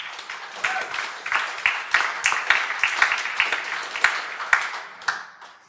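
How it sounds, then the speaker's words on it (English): Round of applause from a conference audience at GoerliCon, a steady patter of many hands clapping close by, swelling and thinning over several seconds with a few louder individual claps. "please give him a big round of applause as well"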